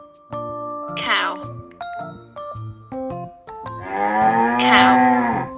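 A cartoon cow in a children's farm-animal song moos twice, loud and drawn out, over a bouncy melody of plucked and chiming notes.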